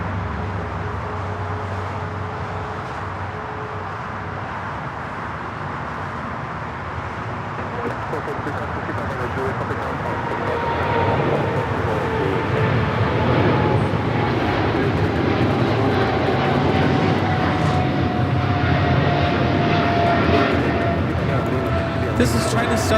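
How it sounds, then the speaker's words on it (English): A Boeing 777 freighter of China Southern Cargo takes off on runway 25 right at Los Angeles airport, a loud broad jet roar that swells steadily as it rolls, with a rising engine whine and distant talk over it. "We've got that 777 freighter now rolling down that 25 at right."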